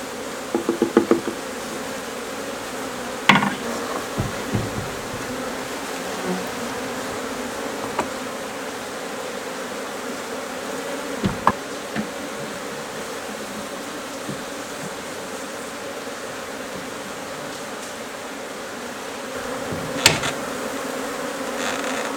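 A swarm of Africanized honey bees hums continuously close by, a dense steady buzz with a few brief knocks and bumps standing out; no voices.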